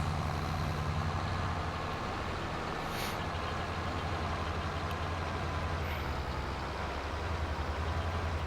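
Tractor in Farming Simulator 22 backing up at the end of a field: a steady low engine drone with faint repeated reversing beeps, continuous and fairly loud, no voices.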